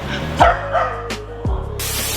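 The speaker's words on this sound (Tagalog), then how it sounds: "tumatahol na naman yung aso" A dog barks a few times in short bursts, fairly close, over a steady low hum, followed by a burst of hiss.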